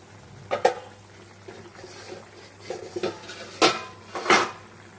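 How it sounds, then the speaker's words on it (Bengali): Metal clanks of a lid coming off a cooking pot during a simmering fish curry, several sharp close clinks in uneven bursts over low background noise. "চলো এবার ঢাকনাটা খুলে দেখি কি অবস্থা হয়েছে"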